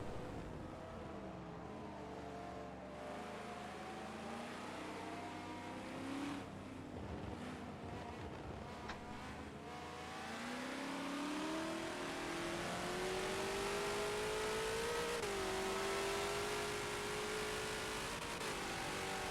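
Race cars in Forza at Sebring International Raceway roar down a straightaway, engines climbing steadily in pitch as they accelerate, a loud sustained whine growing stronger over the stretch with no talk.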